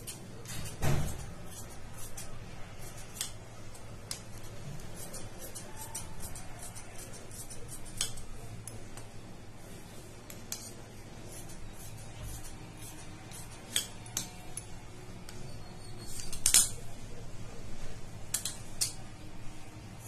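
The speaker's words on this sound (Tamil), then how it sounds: "இந்த மாதிரி பட்டி துணியை வச்சு நம்ம கட் பண்ணிக்கலாமே" Scissors cutting blouse lining fabric, quiet intermittent snips and fabric rustles spread across the clip, with a few sharper clicks near the start and toward the end.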